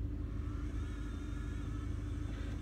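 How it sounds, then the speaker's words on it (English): A car engine rumbles steadily as it warms up, a low, continuous drone heard from inside the car, with a faint higher whine running through it. "It might just be the car warming up."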